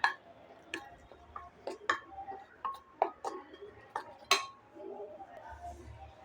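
Idli pieces being mixed in a bowl with a utensil, producing a series of light, irregular clinks and taps against the bowl, close and fairly quiet, with brief soft speech in between.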